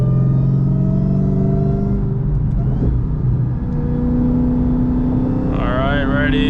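Hellephant-engined Chrysler 300 running loud and close, its engine note climbing steadily in pitch as it accelerates hard from about 60 toward 130, a continuous roaring pull with a shift-like dip midway.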